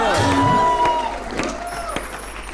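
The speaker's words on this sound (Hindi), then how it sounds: "तालियां अब तक बज रही हैं" Audience cheering and clapping with shouts at a comedy event, a dense crowd roar heard up close with brief bursts of whoops.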